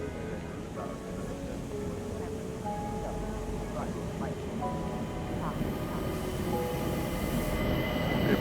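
Steady rumble of the Orient Express train in a Murder on the Orient Express video game, rolling wheels and carriage noise with faint tonal squeals, gradually growing a little louder.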